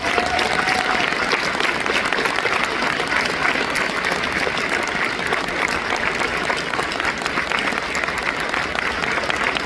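Sustained applause from a large audience at a talk honoring a plane-crash survivor in the snow, dense steady clapping lasting throughout at full loudness, with faint crowd murmur mixed in.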